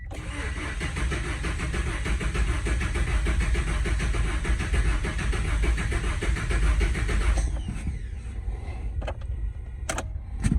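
A car's starter cranks the engine steadily on a new 700 cold-cranking-amp battery, a loud continuous churning for about seven seconds that then cuts off, leaving a quieter tail with a few faint clicks and knocks.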